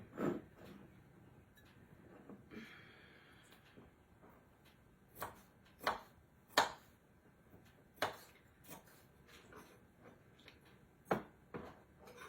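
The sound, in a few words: chopping food with a small knife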